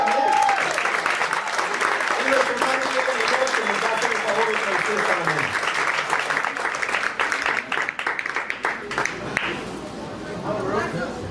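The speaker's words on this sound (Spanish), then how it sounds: "un fuerte aplauso para él" Church congregation applauding a guest speaker, dense steady clapping filling the room for about nine seconds before thinning out, with voices and murmurs mixed in.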